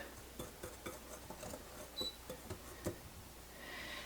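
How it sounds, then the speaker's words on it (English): A whisk stirring salt into dry bread dough ingredients in a bowl for no-knead bread, giving faint, uneven light taps and scrapes at close range. "I take the whisk and I kind of mix the salt into this side."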